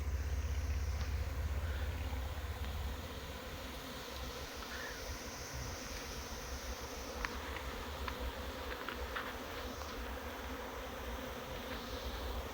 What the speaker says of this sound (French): Des milliers d'abeilles qui sortent de la ruche